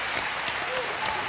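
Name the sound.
studio audience applauding a quiz contestant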